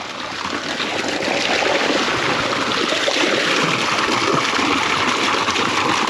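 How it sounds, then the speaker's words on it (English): Water runs into a large homestead water tank, a steady rushing, trickling flow that stays loud and continuous throughout, heard alone. "Yeah, I can hear the water running."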